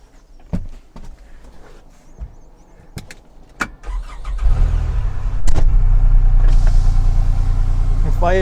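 A machine's engine starts: a few sharp clicks and thumps come first, then it cranks and catches. It settles into a loud, steady, close idle rumble.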